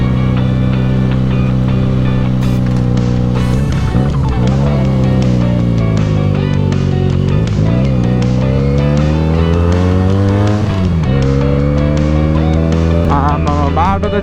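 Benelli 300 motorcycle ridden solo along a paved jungle road, its engine droning loud and steady throughout with pitch rising and falling as the rider works through gears and revs.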